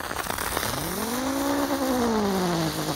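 A red ground spinner firework, a teratai, burns with a loud rising and falling whistling whine over steady hissing and crackle, close by and with no talking.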